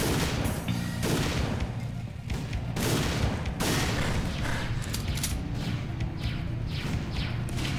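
Explosions and gunfire in the first-person shooter Goldeneye: Source, a dense, loud barrage of repeated shots and booms that continues without a break.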